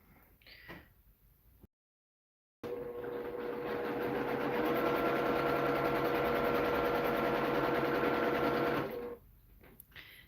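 Domestic sewing machine running for free motion quilting, a steady close mechanical whir with a fast stitching rhythm that starts after a brief gap, holds for several seconds, then stops, with faint background movement around it.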